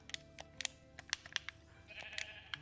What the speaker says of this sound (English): God, there's loads of sheep here.